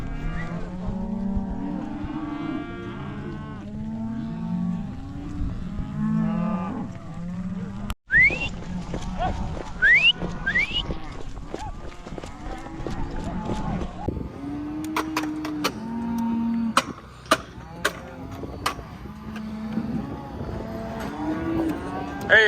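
Herd of cattle mooing repeatedly during a roundup on open prairie, overlapping low calls near and farther off, with a man calling and whistling to drive the cows and some brief sharp noises later on.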